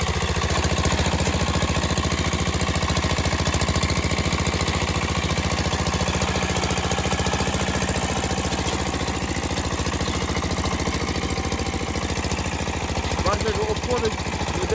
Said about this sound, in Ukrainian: Ось для цього потрібен мотоблок. Не міні-трактор, а іменно мотоблок.